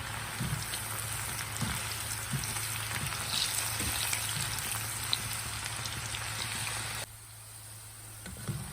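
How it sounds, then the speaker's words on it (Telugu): Okra and cashews deep frying in hot oil give a steady, close sizzle with soft popping bursts, continuing alone until the bubbling drops to a quieter simmer near the end. "ఆయిల్ కాగింది దీనిలో కాసిన కాసిన వేసుకొని వేయించుకోండి డీప్ ఫ్రై చేసుకోండి"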